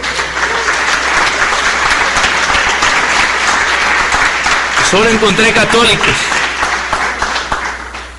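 Congregation applause in a church fills the space, loud and sustained, with a voice speaking over it near the end.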